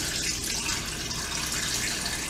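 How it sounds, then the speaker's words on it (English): Water pours steadily into the bottom of a Power Pressure Cooker XL, a continuous close hiss of running liquid with no talking. "I'm going to add water around the bottom"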